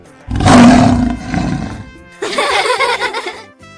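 A lion gives a loud, close roar, a deep rough burst followed by a second throaty, rasping roar, standing alone with no speech.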